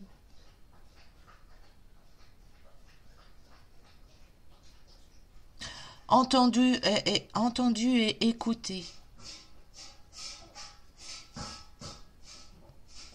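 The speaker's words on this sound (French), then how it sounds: "c'est mon chien qui cherche des croquettes dans le fond de ses gamelles." A pet dog noses through the bottom of its food bowls hunting for kibble, with a sudden loud burst of snuffling and scraping midway, then softer intermittent rustles, while a person talks throughout.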